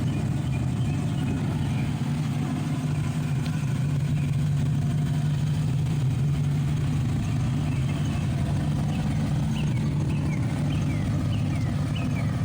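A Fox Body car's engine runs at a steady idle, a continuous low, throaty rumble close by with no breaks.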